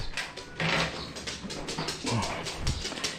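A dog whimpers and whines in short, fairly close bursts on a farm where duck beds are being enclosed, with faint background noise and no clear talk.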